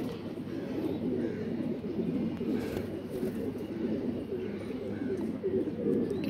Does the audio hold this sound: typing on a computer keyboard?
no